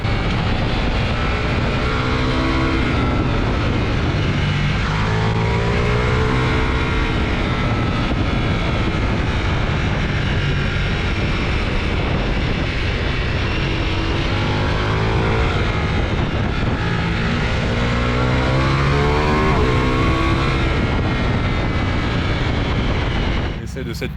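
Ducati Multistrada V4S 2021 ridden two-up along a country road, a steady loud engine drone with wind roar throughout and shifting pitch as it accelerates, with people talking over it.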